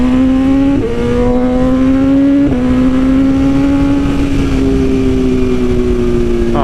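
A BMW S1000RR sport bike engine revs loud and steady at close range, its pitch climbing in long pulls broken by a few quick shift steps.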